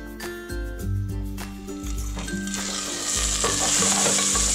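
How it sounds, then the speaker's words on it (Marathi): Tomato and onion frying in oil for a stuffed baingan masala, stirred with a spoon that knocks and scrapes the pan at intervals while a sizzle grows louder and brighter, close up, no talking. "टोमॅटो आणि कांदा व्यवस्थित आपण याच्यामध्ये पूर्ण शिजवून घेऊया"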